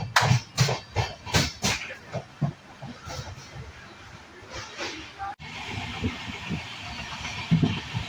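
An LHB-coach intercity express train from Ernakulam to KSR Bengaluru rumbles along the rails with a steady rhythmic clatter of wheels, voices faintly heard under the running noise.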